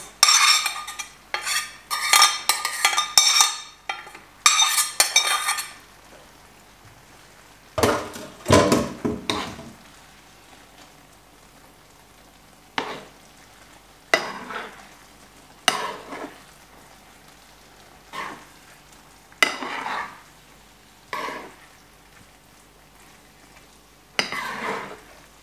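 Rice and mushrooms for risotto are stirred in a pot. The start is busy with scraping and clattering, and after that the spoon scrapes the pot in short, separate strokes at a regular pace.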